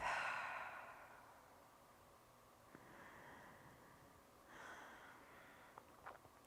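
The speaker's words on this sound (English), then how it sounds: "Take a breath." A person doing a yoga stretch takes a slow, soft audible breath, with a sighing exhale at the start and quieter breaths later. It sounds close and faint, with no talking.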